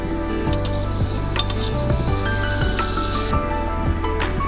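A pot of fish curry boils over an outdoor wood fire, bubbling and sizzling steadily for several seconds over a low, constant humming drone, with no one talking.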